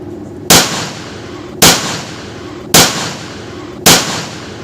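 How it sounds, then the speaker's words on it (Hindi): Four loud, close gunshots are fired into the air, evenly spaced about a second apart, each with a sharp crack and a short decaying tail, with no voices. "दहशत फैलाने के लिए हवाई फायर कर दी"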